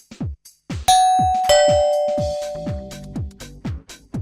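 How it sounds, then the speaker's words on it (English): A doorbell rings out loudly and up close: two bright, ringing chimes that hang and slowly fade, over a run of short repeated knocking or thumping sounds before and after, with no voices heard. "So suddenly we heard this doorbell."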